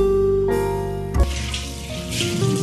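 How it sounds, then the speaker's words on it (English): Water pours and splashes into a pot over a constant background hum, the splash rising and falling over a couple of seconds. "Now to this pot I'm going to add water."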